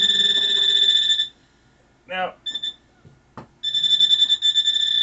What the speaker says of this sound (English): you can see it starts beeping when it gets somewhat close